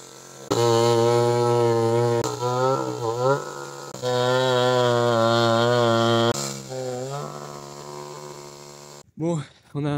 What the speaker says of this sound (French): On a remis en route la tronçonneuse. Et voilà, on va couper tout ça.